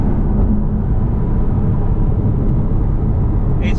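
Manual Aston Martin Vantage AMR driving on a road, heard as a steady, loud, deep engine and road rumble that holds throughout without a break, with no talking.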